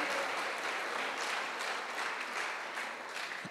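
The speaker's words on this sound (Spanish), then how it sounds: "Bate palmas para Jesus." A church congregation applauds, with loud, dense, continuous clapping from many hands that tapers slightly toward the end and no talk.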